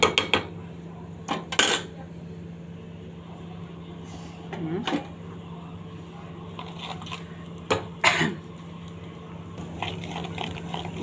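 A spoon stirs and scrapes chili oil in a pan for Egyptian koshari, giving scattered metallic clinks and knocks with pauses between them over a low steady hum, close by.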